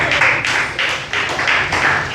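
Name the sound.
congregation clapping in church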